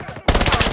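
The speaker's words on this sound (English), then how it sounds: "I got shot." Rapid automatic gunfire from an SMG in the mobile shooter COD Mobile, a loud, close burst of evenly spaced shots that starts abruptly after a brief quieter moment.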